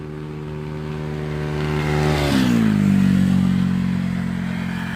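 A motorcycle engine idles with a steady throb, then revs up sharply and settles into a louder, lower drone, close by with no talk.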